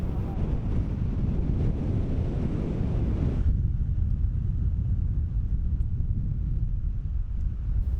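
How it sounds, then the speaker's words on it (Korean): The constant, deep roar of Gullfoss waterfall in Iceland, fed by glacial river water, is heavily buffeted by wind on the microphone, with the gusty high noise easing after a few seconds. "빙하에서 흘러내린 물은 큰 강을 이루고 이렇게 폭포수로 떨어집니다."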